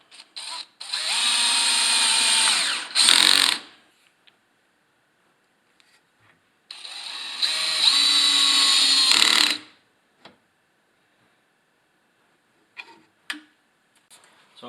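A power drill drives 3/4-inch number 8 screws into drawer door hinges for a kitchen tilt-out drawer, two loud sustained whirring bursts of about three seconds each, followed by quiet with a few faint clicks and taps.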